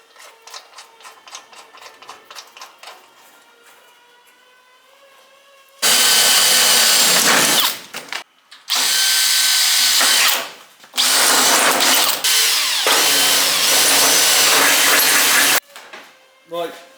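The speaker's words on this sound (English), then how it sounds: "We'll just drill it all" Quiet talking gives way to a loud power drill boring into a Ford Escort Mk2 rally car's body panels, running in several long, high-pitched bursts with brief pauses between them.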